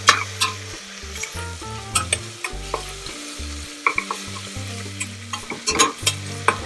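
Crushed ginger and garlic frying in oil for chicken biryani, a close, bright sizzle punctuated by clinking spoon strokes against the pan as it is stirred.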